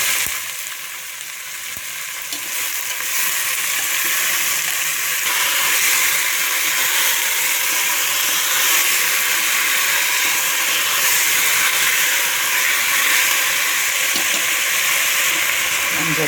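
Rice, dal and vegetables cooking together in a pot for khichdi, a steady close sizzle and hiss of frying that runs throughout without a break.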